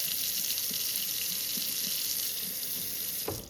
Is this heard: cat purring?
no